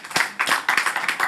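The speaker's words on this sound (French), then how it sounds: "On les applaudit bien fort." A brief burst of audience clapping at a community culture and heritage event, uneven individual claps from a modest crowd in quick succession.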